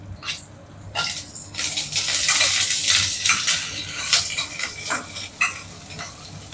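Vegetables sautéing in a pan with curry leaves and coriander for an okra kara kuzhambu, a steady close sizzle with scraping stir strokes, rising after the first second and staying busy throughout.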